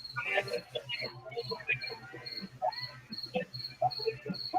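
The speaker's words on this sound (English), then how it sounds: "Crickets? I hear it." Crickets chirping in a dark corner, a regular pulsing high chirp repeating throughout, heard under people talking nearby.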